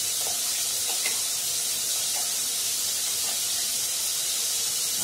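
Ginger paste sizzles in a hot pan of melted fat while matar paneer is being cooked: a steady, close hiss with a few faint pops scattered through it and no voices.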